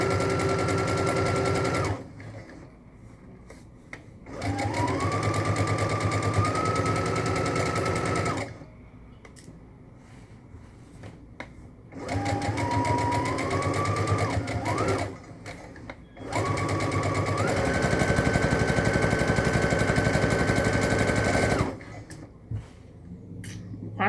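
A sewing machine stitches tank top fabric in four loud, sustained runs of rapid whirring with short pauses between, each run rising in speed, while someone talks during the quieter gaps.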